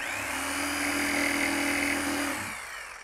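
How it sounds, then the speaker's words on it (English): A power tool cutting wood while finishing cuts for a workbench build, a loud continuous buzzing drone with a steady pitch that holds, then eases off near the end. "And now I'll just finish those cuts with my jigsaw."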